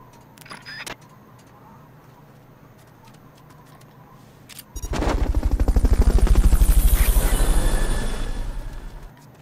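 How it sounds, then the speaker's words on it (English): Helicopter in Metal Gear Solid Peace Walker, starting after a few clicks with a loud, rapid rotor thudding that swells to a peak, holds, then eases slightly toward the end. "Hamilton recovery subject confirmed onboard helicopter."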